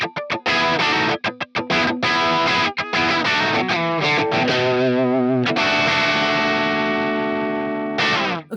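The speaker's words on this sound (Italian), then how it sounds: "Per il terzo lick voglio una distorsione bella carica, quindi plexi a cannone" An electric guitar plays a blues lick through heavily driven plexi-style distortion, loud and close: a run of quick picked notes and short stabs, then long sustained bends and chords ringing out, ending with a final struck chord.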